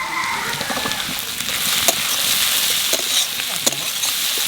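Green chillies sizzle in hot oil in a frying pan, a steady close crackling hiss with a few sharper pops and stirring clicks throughout.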